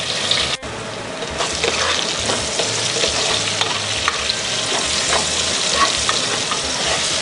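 Diced onions frying in red oil in a pan, a steady close sizzle and crackle with faint stirring scrapes, continuous and fairly loud with no talking.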